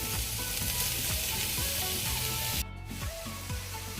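Vegetables sautéing in a pan with black pepper and pasta seasoning for cheesy pasta, a dense continuous sizzle with rhythmic stirring scrapes, close by, dropping slightly quieter near the end.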